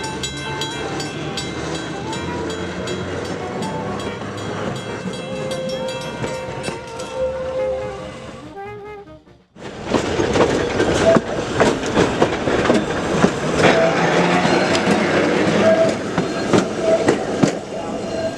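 Red Arrow trolley car 66 runs on rails with steady rumbling and clickety-clack over track joints, humming motors and a brief quieter stretch before the loud rolling resumes, heard from on board.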